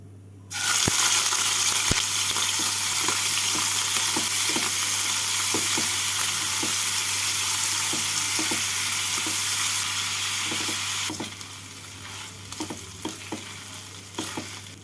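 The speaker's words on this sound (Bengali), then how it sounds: "তেলটাকে ভালো করে গরম করে নিয়ে এর মধ্যে চিংড়ি মাছগুলোকে দিয়ে ভালো করে ভেজে তুলে নেব" Prawns frying in mustard oil in a frying pan: a loud, dense crackling sizzle bursts in suddenly and holds steady for about ten seconds, then drops to a quieter sizzle with scattered pops, no voices.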